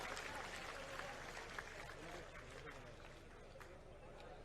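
An audience at a political gathering in Gujarat claps in welcome, a dense sustained patter of many hands running through the whole stretch, with crowd murmur beneath it.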